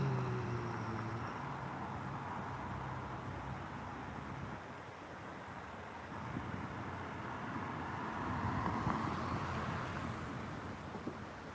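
A car drives past on a roadway, a broad rushing swell rising toward the end over steady background traffic and light wind, with no talk.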